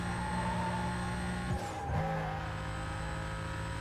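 Racing car engine in Need for Speed: Most Wanted (2005, PS2) with nitrous boost engaged: a steady, loud engine drone that dips briefly mid-clip, then surges back with a higher sustained roar.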